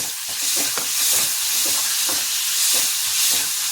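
Tomato added to sautéing onion sizzles steadily in a hot pan, with a constant frying hiss and scattered spatters and stirring scrapes, close and fairly loud, no talking.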